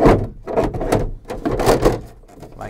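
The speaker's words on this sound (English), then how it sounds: "So to get the door store into place, simply slide it in" A Kiravans door storage pocket slides into place inside the door of a VW T5/T6 van, producing a few close, uneven scraping and rubbing bursts of plastic against the panel, with no talking.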